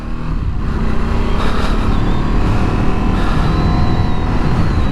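A Ducati Streetfighter V2 motorcycle's twin-cylinder engine runs on a closed road, a loud, steady, continuous drone close by that holds for the whole stretch without any voices.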